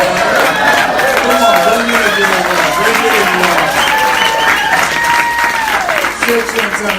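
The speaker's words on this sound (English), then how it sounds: "Give the old man a round of applause." Audience applause at a motivational speaking event: steady crowd clapping and cheering for the whole stretch, mixed with voices and tonal sounds, fairly loud throughout.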